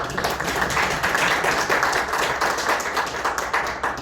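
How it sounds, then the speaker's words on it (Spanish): An audience at a lecture on Hilma af Klint applauds an award for teaching excellence, with a dense, sustained burst of clapping that stays loud throughout. "yo creo que eso merece un doble aplauso"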